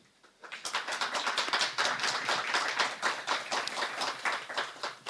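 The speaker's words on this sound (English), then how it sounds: "Applause to the panel." A room full of conference listeners applauds a panel on civil society and sustainable food systems, dense steady clapping that starts abruptly, stays loud and even for several seconds, then begins to thin.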